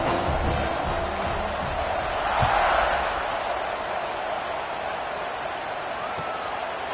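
Football stadium crowd at an ACC game roaring steadily at kickoff, a broad continuous wall of cheering that swells briefly midway, with faint voices mixed in.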